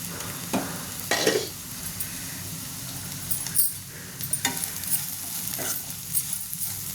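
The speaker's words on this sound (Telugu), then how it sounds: "దొండకాయ బాగా వేగింది కదా" Ivy gourd pieces fry in a pan with a constant sizzle, broken by repeated scraping stirs and clinks of a spatula, and no one speaks.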